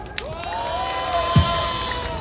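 A crowd at an outdoor political rally near Seoul Station cheers and whoops in a sustained, fairly loud swell, with a drawn-out shout rising above the mass and a brief thump partway through.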